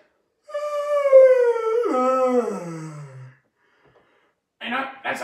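A dog lets out a long, whining yawn that slides downward in pitch and fades, followed after a pause by two short rustling bursts.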